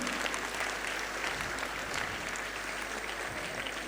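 Sustained applause from parents and children at a school felicitation ceremony, an even, dense patter of many hands clapping at moderate distance, continuing unbroken without talk.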